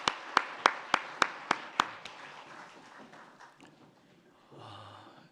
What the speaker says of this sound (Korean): 하나님께 영광의 박수 드립니다.